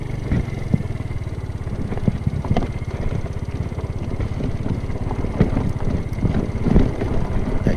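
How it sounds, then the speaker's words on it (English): On a rough road, the top case of a Kymco Agility 50 scooter rattles and clunks in irregular knocks over a constant rumble of engine and wind noise. "Clunkety clunk noise is my top case."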